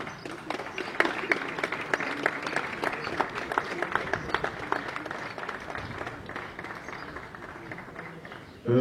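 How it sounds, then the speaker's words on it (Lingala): At a funeral gathering for an artist, an audience claps in a steady, dense round of applause that lasts several seconds, fairly loud and close. "je vous demande de l'applaudir très très fort"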